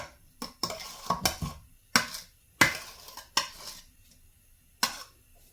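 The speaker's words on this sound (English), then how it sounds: "So we're going to beat in the egg." An egg is beaten into chocolate chip cookie dough in a bowl, irregular clanking strikes of a utensil against the bowl, some in quick clusters and some spaced apart, close and fairly crisp.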